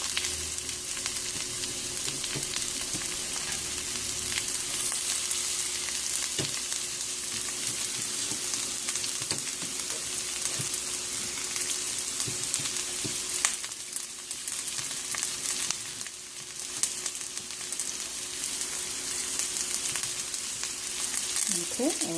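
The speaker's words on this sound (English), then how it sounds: "now that the garlic is in a kind of like a golden color, we're going to add our onions." Onions added to golden garlic sizzle steadily in a pan, a close, even frying hiss that runs on alone with a few light stirring clicks.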